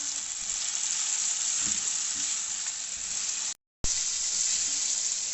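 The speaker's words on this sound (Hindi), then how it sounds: "प्याज के बाद अब हम इसमें चिकन डाल देंगे बोनलेस। चिकन को हमने तेज़ आंच पे फ्राई करना है।" Boneless chicken pieces frying over high heat with onions in a karahi, a steady loud sizzle with faint scraping, briefly cutting out for a moment before resuming, no voices.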